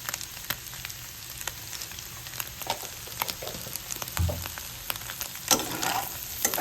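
A spatula stirs fried rice in a hot pan, giving repeated light scrapes and clicks over a soft background sizzle. The sound stays close and fairly quiet, with a louder stir near the end.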